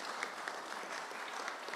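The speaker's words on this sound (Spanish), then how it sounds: "Un aplauso." Quiet, steady applause from a seminar audience marking twenty years of the Chile–China free trade agreement, brief and fairly distant, with no talk over it.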